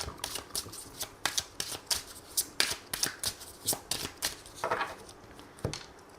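Oracle cards being shuffled by hand in a repeated run of crisp riffling flicks and soft slaps, close and clear with no talking.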